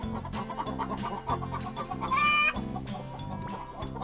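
Several chickens cluck repeatedly over a steady background of music, with a few sharper calls rising midway; the clucking is fairly close and continuous.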